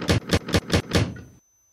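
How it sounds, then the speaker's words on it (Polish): Flap in an EN57 electric train cab in SimRail being lifted, five quick, evenly spaced rattling clacks in a rapid burst, then abrupt silence. "A to tylko klapkę sobie mogę podnieść."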